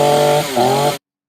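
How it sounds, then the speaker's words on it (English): Chainsaw cutting into a model of the Pentagon, a loud, close, steady engine drone that dips in pitch under load, then cuts off abruptly. "using a chainsaw to cut into a model of the Pentagon"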